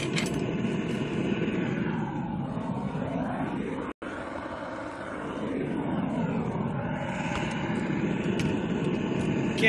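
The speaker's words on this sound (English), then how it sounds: "Really drove the heat up in my forge with a forced air" A forced air blower feeding a forge roars steadily and loudly at close range with a broad whooshing hum, briefly cutting out once before resuming.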